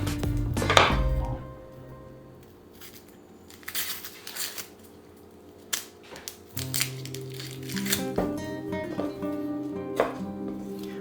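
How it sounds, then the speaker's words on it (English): Shallots being cut with a knife on a board in a home kitchen, a few sharp crisp slicing taps and scrapes scattered among quieter kitchen clatter and a low steady hum from a pan heating on the stove. "meanwhile, it's eating, we're gonna cut the shallots."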